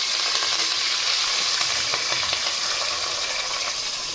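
Onions frying in a pan for a home-cooked fish lunch, with cumin added, giving a steady, loud, continuous sizzle close by with faint stirring clicks throughout and no talk.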